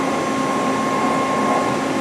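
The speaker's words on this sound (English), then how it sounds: "it's okay, it's not one of the loudest gearbox, you can hear it a little bit," A machine spindle and gearbox run at about 800 RPM, giving a steady, even mechanical whine and hum with a faint constant tone, moderately loud and unbroken, with no talking.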